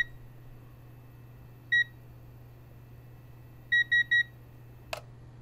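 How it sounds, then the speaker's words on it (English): A UPS battery backup unit for a desktop computer gives a single electronic beep, then a quick run of three identical beeps after a pause, over a faint low hum, ending with a click. "you want this to stop beeping"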